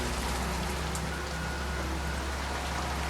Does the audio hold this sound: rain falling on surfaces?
yes